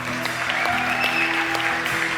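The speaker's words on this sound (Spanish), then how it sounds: "Un aplauso para ellos, por favor." A church congregation applauds in a steady wash of clapping throughout, with sustained tones from instruments or a keyboard held underneath.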